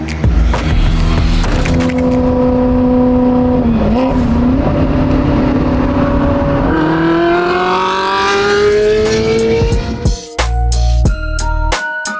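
A Ferrari 360 engine with a gated manual conversion revs up and down steadily, with pitch climbing through gears and dropping at shifts, loud and close throughout.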